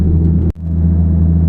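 A pickup truck engine held at full throttle while stuck on a snowy swamp road, a steady, heavy low rumble that drops out for an instant and then resumes at the same loud, droning level.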